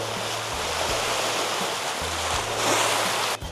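Sea waves splash and wash onto a beach in the Andaman Islands, a steady, loud broadband surge of surf that swells near the end, with no voices over it.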